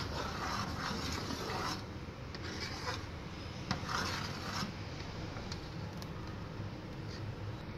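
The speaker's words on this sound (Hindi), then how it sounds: "और साथ ही साथ चम्मच हिलाते रहेंगे ताकि और गाढ़ी हो जाए" A spoon is stirred through kheer thickening in a pot over a low flame, giving a faint, continuous rhythmic scraping and rubbing against the pot, with no talk.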